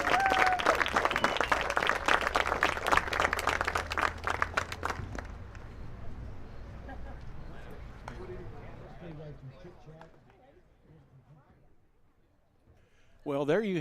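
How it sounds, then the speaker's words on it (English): Crowd applause for the 2026 Noblesville Millers baseball seniors at a senior day ceremony, a dense burst of clapping over the first five seconds that thins out and fades to near quiet, with speech heard in the background and resuming near the end. "One more round of applause for our 2026 baseball seniors."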